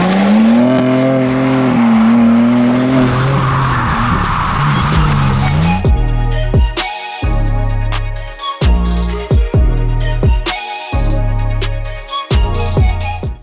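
A BMW G80 M3 xDrive switched to 2-wheel drive is drifting. Its engine roars loudly with squealing tires, then breaks into rapid choppy revving bursts and crackles, close and intense throughout.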